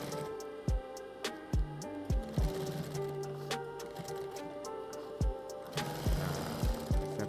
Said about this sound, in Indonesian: Terus kita jahit lagi satu buat bagian kanannya.